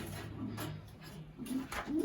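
A sick racing pigeon coos softly in several short, low throaty bursts, close by and quiet, with no other sounds around it.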